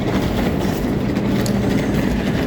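Montreal metro train on the orange line near Georges-Vanier station: a loud, steady rumble with a rattling, rolling roar, heard close from inside the car with no talking.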